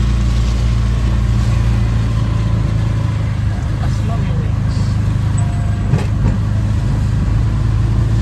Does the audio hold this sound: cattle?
no